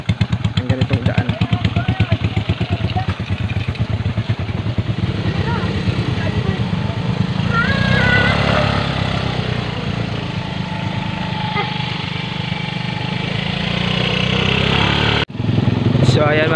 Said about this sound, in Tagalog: Apat ng motor po yung gamit namin.